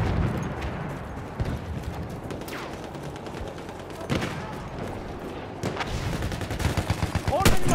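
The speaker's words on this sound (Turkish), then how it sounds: "Orada bir makinalı tüfek var." Machine gun fire in Battlefield 1: bursts of gunshots and rattling fire, some sharp and close, others more distant, over a rumbling battlefield din, with voices faintly mixed in.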